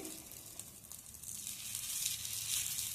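Steady sizzling of pongadalu (paniyaram) batter frying in a pan, a soft hiss that swells slightly louder toward the end, with no voices.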